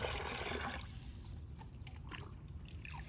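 Pond water trickles and splashes into a bag holding an Asian redtail catfish, a soft, continuous liquid patter up close, brighter at first and then settling into gentle drips and gurgles outdoors.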